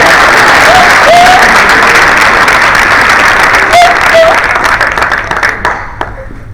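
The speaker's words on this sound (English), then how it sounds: "I would like to give my team a round of applause." Loud, sustained applause from a conference audience after a speaker thanks his team, dense clapping throughout that thins toward the end, with brief voices calling out over it.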